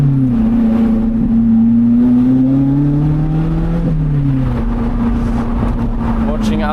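A car pulls hard along a rough rally road, its engine holding a loud, steady drone with shifting pitch and a brief dip midway, captured close from inside the cabin.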